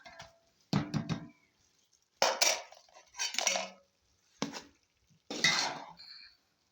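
Boiled spaghetti and vermicelli are tossed in a stir-fry pan for pansit, heard as about five separate bursts of metal utensils clanking and scraping, each followed by a short pause, close and clear with no talking.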